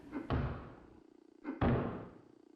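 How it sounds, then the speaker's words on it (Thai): Two heavy thuds land about a second apart in a horror video game, sounding like footsteps or a door opening, each with a short boomy decay over a low steady hum. "ในเกมมันจะมีเสียงข้างนอกเดิน เสียงเดินด้วย เฮ้ย เฮ้ย มันเปิดประตูเหมือนกันเลยอะ"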